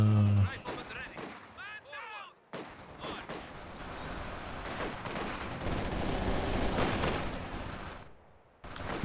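Heavy gunfire from a World War II video game battle, with PPSh submachine guns against Volksgrenadiers, in dense bursts and booming blasts that run almost without a break after a short opening, with a voice heard briefly at the start.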